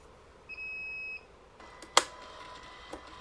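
A Fujikura 90R fusion splicer gives one clear steady electronic beep after rebooting, followed by a quiet room with a sharp click and faint handling noise.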